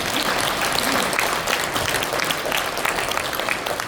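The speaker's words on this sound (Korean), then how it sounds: "우리 하나님 앞에 영광의 박수 드리겠습니다" Dense, loud applause from a church or assembly audience offered as praise to God, a thick continuous wash of many hands clapping close by with no speech over it.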